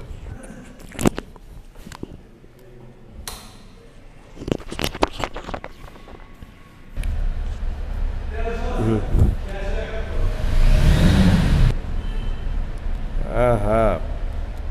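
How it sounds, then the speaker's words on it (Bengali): A Hero Ignitor motorcycle, showroom condition, is started partway through and settles into a loud, steady idle that continues to the end, with someone talking before and over it. "এখন গাড়িটি স্টার্ট করে শোনাবো"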